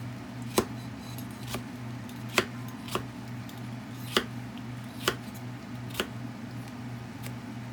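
A knife chops onion on a cutting board as it is diced into cubes for chicken soup, giving about seven or eight sharp, evenly spaced thuds over a steady low hum of room noise.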